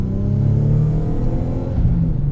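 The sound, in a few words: Nissan 300ZX twin turbo 3-liter V6 engine accelerating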